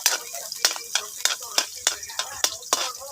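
Onion and garlic frying for adobong kapayas, a spatula scraping and stirring in a regular rhythm of sharp clacks over a soft sizzle, close up and without talk.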